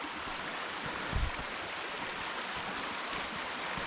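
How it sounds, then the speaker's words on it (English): A forest creek on Peabody Creek Trail in Olympic National Park near Port Angeles, Washington rushes in a steady, broadband wash of flowing water, constant and moderately near, with a soft low thump partway through. "Just a creek though."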